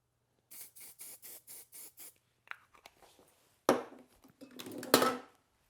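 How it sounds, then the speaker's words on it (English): Light hairspray misted onto the front of a man's hair during a haircut, heard as a run of about seven short, even, hissing spray bursts, followed by brief brushing and handling noises. "I'm going to hit him just this front with a little bit of light hairspray"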